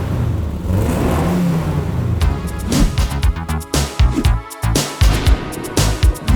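A custom Volkswagen Scirocco engine making around 180 horsepower settles from a steady rumble into a series of quick, punchy throttle blips with pops between them, close and loud, with no talking.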